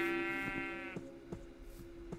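A Minecraft sheep gives a clear, wavering bleat at the start, followed by steady game ambience and a series of light thumping footsteps.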